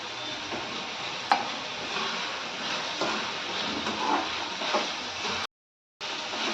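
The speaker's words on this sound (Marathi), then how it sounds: "कांदा लाल होईपर्यंत परतवून घ्यायचे आता कांद्यासोबत थोडासा हा कढीपत्ता घेतलाय तोही टाकून घेते" Onions and curry leaves frying in a pan for a moth bean dal dish, a steady close sizzle with occasional light scrapes of stirring, cut by a brief gap of silence near the end.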